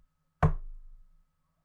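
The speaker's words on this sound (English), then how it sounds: "there was another knock." A single dull knock on a front door, solid and close, followed by a short fading resonance and then silence.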